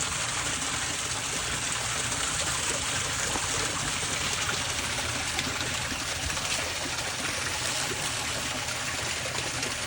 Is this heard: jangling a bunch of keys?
no